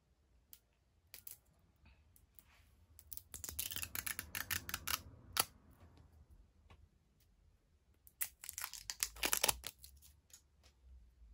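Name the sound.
unwrapping packaging of a Mac foundation brush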